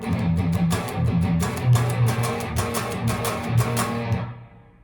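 Distorted electric guitar power chords played in a chugging picked pattern, close and loud, ringing out and fading at the end.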